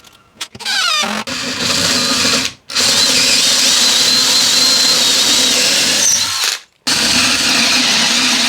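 A power drill bores holes while building a router table, its loud, steady whine running in two long bursts separated by short pauses, close and alone.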